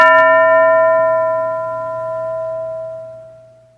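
A single school bell strikes once and rings out, its clear metallic tone slowly fading over a few seconds.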